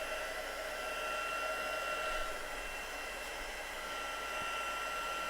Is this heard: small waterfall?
no